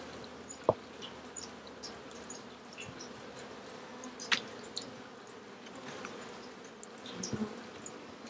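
Honeybees hum around working hives in a garden, a soft, steady outdoor buzz with a few sharper clicks and knocks scattered through it and no voices.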